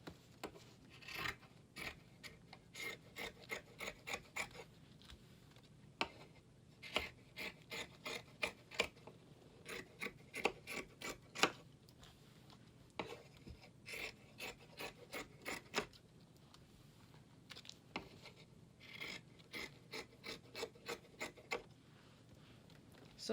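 Scissors snipping through fabric while cutting out rococo-style cosplay dress pieces: quiet, close, irregular runs of crisp rasping cuts with short pauses between bursts, no talking.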